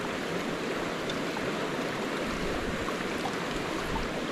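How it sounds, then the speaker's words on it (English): Steady broadband rush of river water flowing outdoors, continuous and fairly close, with no voices. "by the river here."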